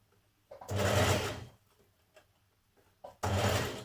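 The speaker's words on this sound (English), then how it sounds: "And stitch all the way around." A home sewing machine runs two bursts of stitching on a Burda 6055 smock dress, the first about a second long, then a brief pause and a second run starting, close and steady.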